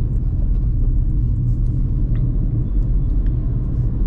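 A Tata Punch compact SUV pulls away in second gear, its engine and road rumble steady and loud throughout from inside the cabin, with no talking.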